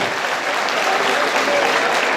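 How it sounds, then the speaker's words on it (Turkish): Steady dense applause from a crowd at a village solidarity dinner in Ormanözü, Turhal, Tokat, a continuous even wash of clapping with no pauses. "Bir alkış hemen yoruldunuz mu?"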